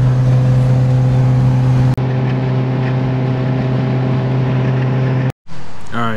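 Honda Civic wagon with a broken, split exhaust droning loudly and steadily on the road, a continuous low rumble that cuts out briefly near the end.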